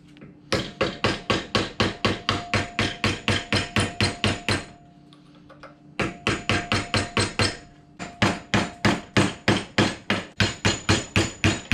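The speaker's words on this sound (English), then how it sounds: "We're gonna go ahead and use a seal removal tool and pop this seal off" A seal removal tool is hammered to pop the old pinion seal off a 14 bolt axle, with sharp, loud, evenly spaced metal strikes in three long runs, separated by two brief pauses.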